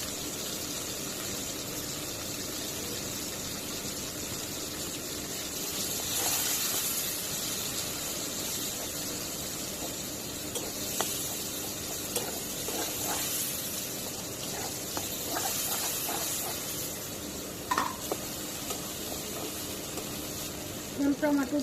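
Onions and chilies fry with salt in a pan, giving a steady close hiss and sizzle with scattered small crackles and spatula scrapes, continuing without speech for about twenty seconds.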